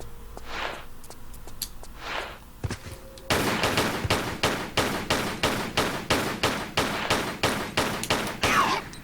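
Gunfire in a Tomb Raider level game aimed at a parrot: two isolated shots, then a rapid, loud string of evenly spaced bursts, each sharp crack followed by a short ringing tail.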